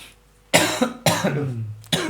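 Three sharp, harsh coughs in quick succession, close and loud, with short pauses between them.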